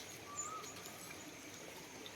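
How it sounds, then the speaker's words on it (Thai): Faint, steady trickle of flowing water with a soft hiss throughout, no voices. "น้ำไหลด้วยนะคะ"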